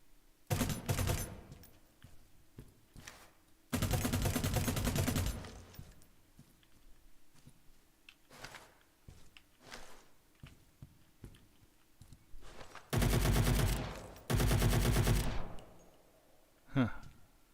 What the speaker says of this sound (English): This looks like a submachine gun.